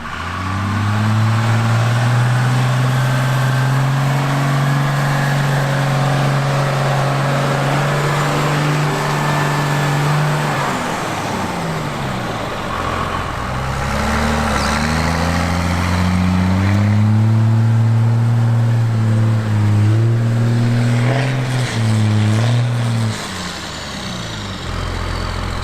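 A 1994 Dodge Cummins diesel truck straining on a snowy, icy off-road obstacle: loud, close engine revs that climb, drop away and climb again in long pulls, with no speech over it.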